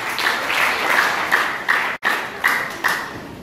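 Audience applause fills the room steadily, a dense wash of many hands clapping with a few sharper individual claps standing out, briefly dipping once before carrying on.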